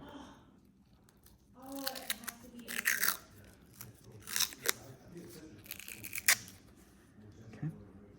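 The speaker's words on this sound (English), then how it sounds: "We can go ahead and grab some tape to attach" Tape is pulled and torn off a roll close by in several crackly, ripping bursts of varying length, with a voice talking softly underneath.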